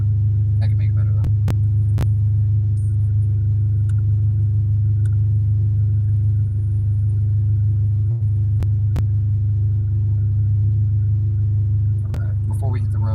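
A tuned K24 engine in a Honda Civic idles steadily, a constant deep rumble heard from inside the car with a few faint clicks, and no talking.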